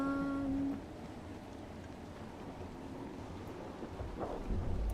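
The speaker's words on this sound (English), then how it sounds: "Not me getting struck by lightning again." Lightning strike and thunder in a Minecraft-style video game, a short tonal crack at the start giving way to steady rumbling rain and storm noise, with a deeper low boom near the end; no voices.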